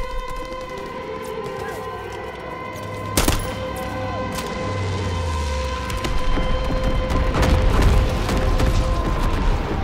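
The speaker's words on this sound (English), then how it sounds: "Carpet bombing running." Carpet bombing in Call of Duty WWII: a dense stream of explosions and gunfire rolls on continuously, with one sharp loud blast about a third of the way in and a siren-like tone running underneath.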